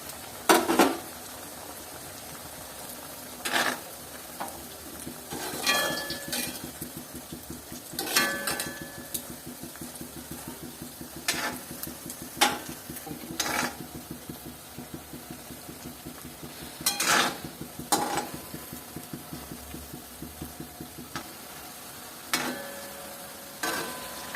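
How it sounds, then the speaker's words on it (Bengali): Syrup-soaked Bengali pitha cakes fry in hot oil in a wok over a medium flame, giving a steady bubbling crackle broken by sharper bursts of sputtering and clinks, with no talking. "এখন আমি এই তেলের মধ্যে পিঠা ছেড়ে দেব"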